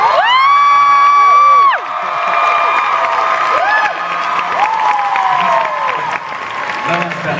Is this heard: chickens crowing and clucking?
no